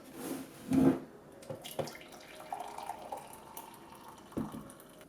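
A hot ginger, lemon and lime detox drink is poured into a glass, a short splashing gush followed by scattered trickles, clinks and quiet handling sounds.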